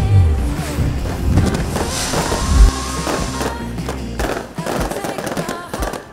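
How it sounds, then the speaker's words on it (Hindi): Fireworks crackle and pop in rapid bursts with deep booms, loud and continuous, set against a busy outdoor crowd at a seaside festival's high-altitude artistic fireworks show. "समुद्र का प्रेम और उच्च ऊंचाई पर कलात्मक आतिशबाजी"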